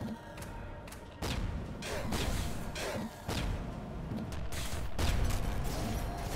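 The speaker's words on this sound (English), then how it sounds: "the impact of this flame gun is very strong" Flame gun firing in the game Nuclear Throne, loud repeated bursts of whooshing, crackling gunfire with heavy thumping impacts, dense and continuous with no pauses.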